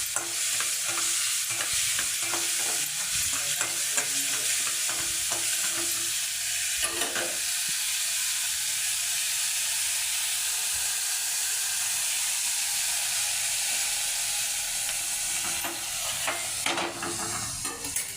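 Ginger garlic paste is sautéed with curry leaves in a pan, sending out a loud, steady hiss of frying that runs throughout, with intermittent scraping strokes of the stirring spoon.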